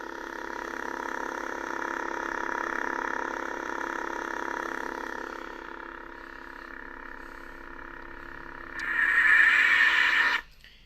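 A steady, buzzy electronic hum from a lightsaber running on an ultrasound sound board, fading slightly midway, then swelling into a brighter, louder burst before cutting off abruptly.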